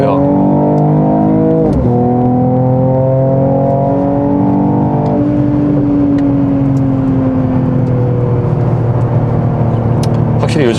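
A Mercedes-AMG GT 43 4Matic+ in Sport Plus mode revs hard with a loud, rising engine note, then holds and slowly winds down in a steady drone, with a voice talking over the engine.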